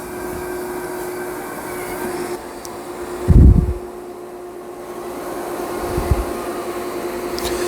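A Dyson Spot+Scrub AI robot vacuum runs on boost mode over carpet, giving a steady, moderately loud fan whine and hum throughout, with brief louder bumps and thuds as it moves around.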